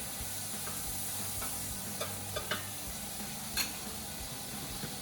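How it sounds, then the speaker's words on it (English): Taylor ham frying with butter on a hot griddle, a steady close crackling sizzle with a few louder pops and spatters, no voices. "Next, we're going to put some Taylor ham onto the griddle. Then we're going to add a little butter."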